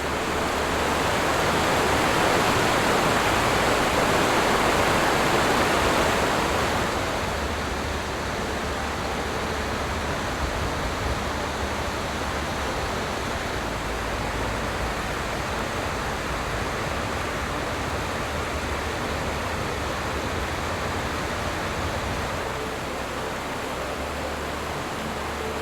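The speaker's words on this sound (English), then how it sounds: "There is something mesmerizing about falling water." Steady roar of a waterfall in Prince William Sound, a dense broadband rush of falling water that is loudest at the start, then settles into a constant, slightly softer wash with no voices.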